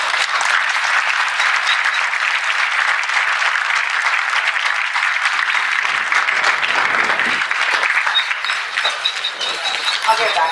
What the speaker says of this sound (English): big round of applause for Jason Rounds